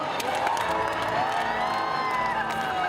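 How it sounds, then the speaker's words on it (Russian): A large crowd at a Navruz celebration in Moscow claps and cheers continuously for a delegation on stage, a dense roar of applause with whoops mixed in throughout. "Ваши аплодисменты, друзья"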